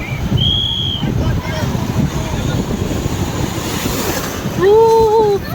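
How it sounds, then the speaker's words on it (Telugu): Strong sea waves surging and crashing close by at Rushikonda beach, Visakhapatnam, with wind buffeting the microphone and a few brief high whistles or voices on top. "చాలా ఫోర్స్గా వస్తుంది అలలు."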